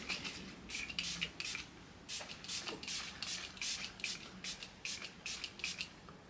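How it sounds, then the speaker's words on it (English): Quick hissing pumps of a Revolution London Super Fix Super Hold makeup setting spray, a dozen or so short, faint spritzes in small clusters, close by. "I'm using this new Revolution Makeup, Revolution London Super Fix Super Hold Misting Spray."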